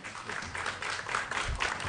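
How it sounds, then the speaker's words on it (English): Applause fills a state assembly judiciary committee hearing room, a steady wash of many hands clapping at moderate volume throughout the short stretch. "applause is a very nice thing, and Jim almost never gets it here"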